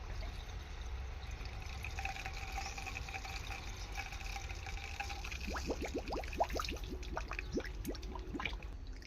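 Water flowing from the pressure tank of a water pump, a soft steady pour that turns into rising gurgling, filling tones toward the end, faint and close.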